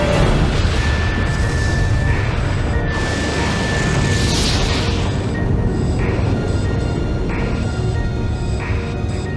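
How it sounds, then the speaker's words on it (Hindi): Dense, roaring rumble of a big explosion effect, loud and sustained with crashing bursts throughout. "और जब वो ऐसा करेंगे तो होगा एक जबरदस्त धमाका"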